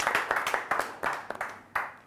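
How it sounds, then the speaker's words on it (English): Audience applause for a semi-finalist at a quiz show semi-final: dense, steady clapping from a crowd with irregular loud hand claps standing out, continuous for about two seconds. "Big round of applause for Pallavi once again."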